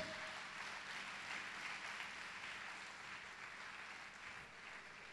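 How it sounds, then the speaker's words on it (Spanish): A church audience claps together at a lecture by a preacher, a steady wash of applause that is distant and faint and fills the whole stretch without a pause. "Dele un aplauso al Señor."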